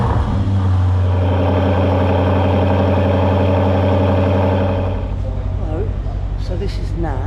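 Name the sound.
Aston Martin DB12 engine idling with QuickSilver exhaust system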